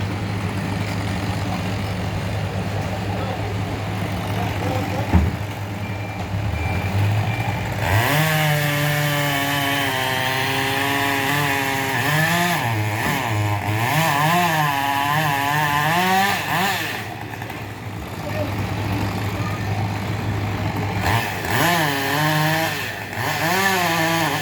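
A chainsaw runs as tree loppers cut down trees near a house, idling low before revving into loud, wavering cutting bursts that rise and fall repeatedly, with heavy engine noise in the background.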